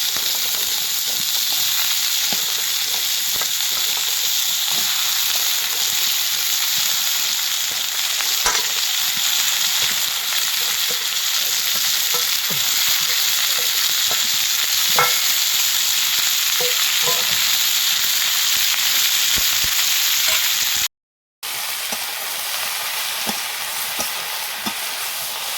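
Taro stolons sizzle in a pan of oil with small stream shrimp. A continuous crackling fry plays with occasional stirring clicks and scrapes, and the sound cuts out briefly before resuming.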